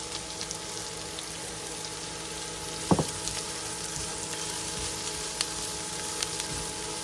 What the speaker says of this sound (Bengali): এটাকে একটু হালকা বাদামি করে ভেজে নিব।